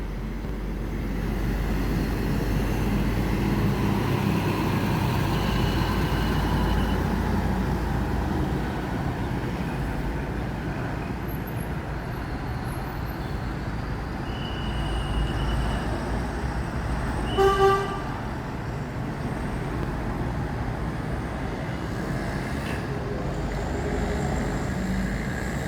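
Mior intercity bus with an Avante body rolling in, a steady road and engine rumble with a short horn toot partway through.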